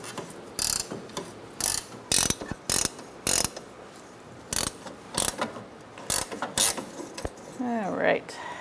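A hand ratchet works loose a rusted sway bar link nut on a 2004-2009 Mazda 3, giving a steady series of sharp clicking pawl bursts at close range, ending with a brief squeaky creak.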